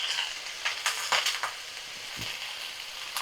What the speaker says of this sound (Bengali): তো সব পালং শাকগুলো আমি দিয়ে ভালো করে দেখো নাড়াচাড়া করে নেব